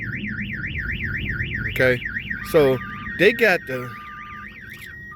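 A car's factory alarm and an aftermarket alarm sound together: a loud, steady warbling siren broken by several sharp honking blasts, with someone speaking briefly over it.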